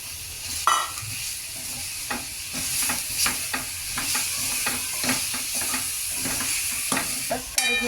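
Grated coconut and jaggery fried in ghee for a modak filling are stirred with a spoon, giving repeated rhythmic scrapes against the pan over a continuous sizzle.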